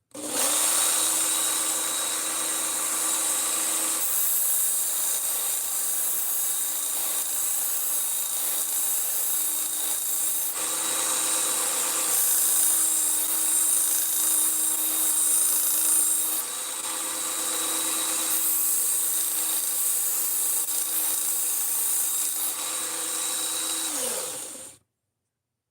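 Power sharpener grinding a blade, a steady loud motor whine running almost nonstop for about 24 seconds, with brief level shifts where the blade is repositioned, then spinning down at the end.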